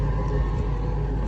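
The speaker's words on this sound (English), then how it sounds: "Can't lie, I love the exhaust on here, man." Deep, steady exhaust rumble from a Box Chevy idling nearby, a low throbbing drone with no break through the short stretch.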